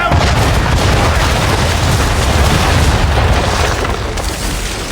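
Ship cannons fire a broadside in the Assassin's Creed 3 video game. The booming is loud and dense and blurs into a continuous rumble that carries through the whole stretch.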